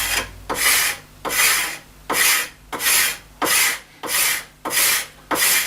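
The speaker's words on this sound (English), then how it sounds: "And all I'm going to do is just scrape it along." A blade scrapes lacquer off a wooden snooker cue shaft in steady rhythmic strokes, about seven rasping passes with short pauses between, close and clear with no talk.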